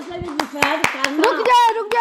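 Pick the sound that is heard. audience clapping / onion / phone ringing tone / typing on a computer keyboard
audience clapping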